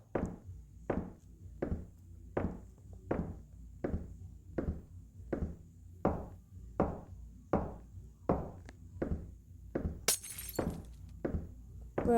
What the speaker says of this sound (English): you can still hear the shatter sound